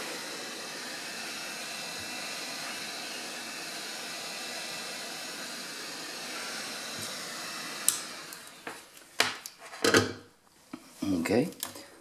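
A heat tool blows with a steady, airy hiss while warming the screen of a 2008–2012 MacBook Pro A1278, then cuts off near the end, followed by clicks, handling noises and brief talk.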